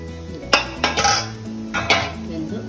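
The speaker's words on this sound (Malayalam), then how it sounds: "നമുക്കൊന്ന് മൂടി തുറന്ന് നോക്കാം." A metal lid comes off a steaming pot of jackfruit kumbilappam with a few close, ringing clanks and clinks of cookware, followed by a quieter rattle.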